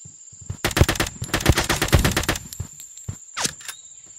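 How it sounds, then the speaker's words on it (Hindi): Rapid bursts of gunfire from the browser shooter Kirka.io, with a sniper rifle in play, cracking in dense volleys across the middle of the clip and then a few scattered shots, loud and close with no talk over them. "वो क्या मार रहा है स्नाइपर से।"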